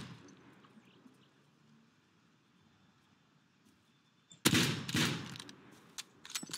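A short, loud burst of rapid gunfire erupts in the survival game Rust after several seconds of quiet ambience, followed by a few scattered single shots.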